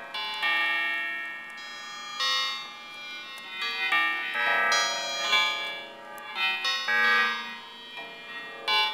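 Many bells in a bell tower ring at once in overlapping, clanging strikes, loud and resonant, their tones layering into a dense, chaotic peal.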